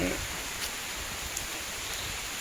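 Morning rain falling outside a homestay in Wayanad, a steady soft hiss of drops on surfaces that holds constant throughout, with a few faint taps standing out.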